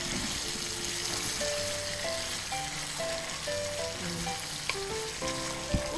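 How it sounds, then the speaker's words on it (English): Pork menudo with lemon sizzling in a pan, a soft steady frying hiss that runs throughout at low volume, with faint clinks and stirring sounds. No one speaks. "You can hear the sizzling."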